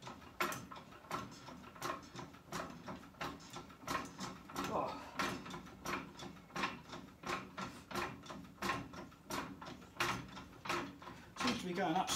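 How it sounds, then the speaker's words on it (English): A slow jack cranks a 220L sandblasting cabinet upward in a steady series of repeated mechanical clicks and ratcheting pumps, close by and moderately loud, while people talk over it. "So let's jack this up."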